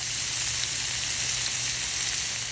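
Diced pepperoni, ham and salami frying on a Blackstone griddle over medium-low heat, a steady, even bright sizzle with no pauses and no voices.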